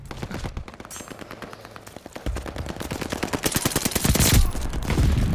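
Rapid gunfire from Call of Duty Vanguard, with dense automatic bursts that build in intensity and grow louder and more sustained toward the end, with no talking over them.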